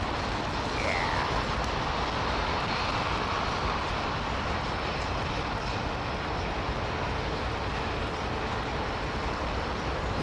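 Rolls-Royce Trent XWB engines on an airliner waiting at a Heathrow intersection give a steady, loud broadband roar that fills the whole stretch without letup.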